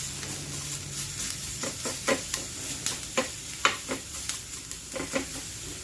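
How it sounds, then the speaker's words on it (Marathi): Capsicum and mixed vegetables pan-fry over a high gas flame, with a low sizzle under a series of sharp spatula clicks and scrapes against the pan. "पण अशा फ्राय केलेल्या, पॅन फ्राय केलेल्या कॅप्सिकम ह्यामध्ये खूप छान लागतात."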